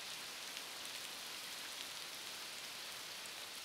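Steady rain falls in a dense, even hiss without pause, with no voices or other sounds over it.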